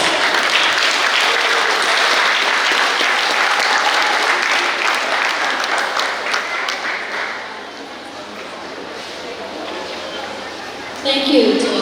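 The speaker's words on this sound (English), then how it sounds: "Let's hear a round of applause." A large audience at a Ponte Catholic High School graduation ceremony applauds the principal, loud dense clapping that swells and then thins after several seconds, leaving scattered claps and crowd murmur with a thump near the end.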